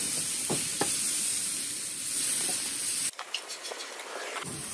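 Teriyaki glaze sizzling and hissing on shrimp on a Blackstone griddle during a hibachi cook, a steady loud spray-like sizzle that cuts off abruptly, leaving a quieter crackle with a few soft clinks.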